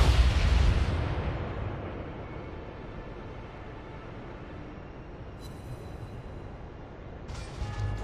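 A heavy cannon blast in a naval warship game, a deep boom at the start that rolls off into a long low rumble, followed by faint distant thuds.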